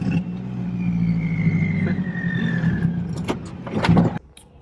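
A K24-powered Honda CRX engine idles unevenly with rough, sputtering revs and a high squealing belt, ending with a few sharp knocks before it cuts out.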